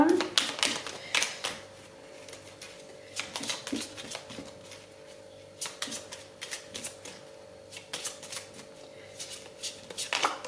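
Playing cards are shuffled and drawn during a card reading: close, crisp riffling and flicking bursts that come in repeated clusters, with a voice talking over them.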